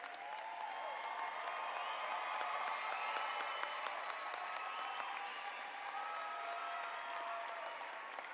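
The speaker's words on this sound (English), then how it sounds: "Join me once more now in applauding all of our graduates." Large crowd applauding graduates at a college commencement ceremony in Colorado, a steady distant wash of clapping heard faintly from afar, continuous and even throughout.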